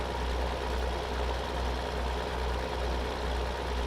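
Tractor harvester engine running in the video game Farming Simulator 2013, a steady, loud, close drone with a low rhythmic throb and no talking.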